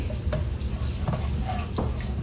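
Ginger frying in a pan for a chana dal tarka, with garlic already in, is stirred briskly: a dense close sizzle under repeated scraping strokes of the spoon, a few sharp ticks standing out over just a couple of seconds.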